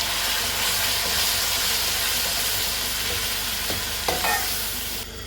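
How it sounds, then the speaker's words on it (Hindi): Mustard greens saag frying in a hot tempering, a steady close sizzle and hiss with occasional scraping stirs of a spoon in the pan, no voices. "साग को हम यहाँ पर अच्छे से भून लेंगे"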